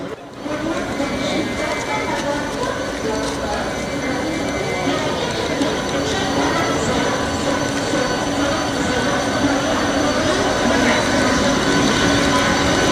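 A MEMU electric passenger train runs along the rails with a loud, continuous rolling rumble, clattering and wheel squeal, heard close for the whole stretch, with some voices in the background.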